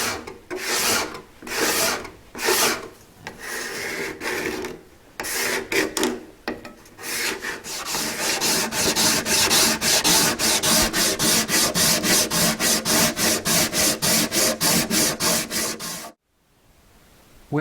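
Steady back-and-forth hand sanding on cocobolo wood guitar binding, rasping strokes in irregular bursts at first, then a fast even rhythm, close and loud, ending abruptly.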